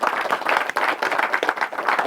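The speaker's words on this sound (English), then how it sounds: "let's give Bruce another big round of applause" Applause from a seated audience at a SMPTE UK event, a dense, steady burst of clapping heard up close and fairly loud with no pauses.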